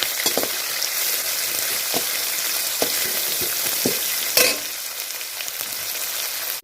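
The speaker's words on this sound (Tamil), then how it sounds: "ஒரு 2 கொத்து கருவேப்பிலை போட்டுங்க. நல்லா ஆனியன் நல்லா வதங்கட்டும்." Onions and curry leaves fry in a pan with a steady, bright sizzle, broken by occasional stirring knocks and a sudden louder burst of hissing partway through.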